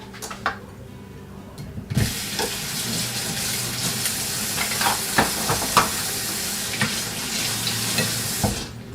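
Homemade sofrito sizzling and frying in a pan as a spoon stirs and knocks against it, starting quietly then bursting into loud continuous sizzle with scattered scraping clinks over about seven seconds.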